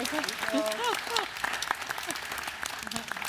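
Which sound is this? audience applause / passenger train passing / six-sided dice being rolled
audience applause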